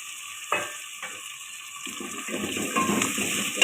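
Cut potatoes with garlic and ginger frying in a pan, starting with a couple of soft clatters and then building into a close, spreading sizzle that grows louder toward the end.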